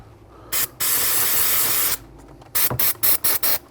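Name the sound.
brake cleaner aerosol spray on brake bracket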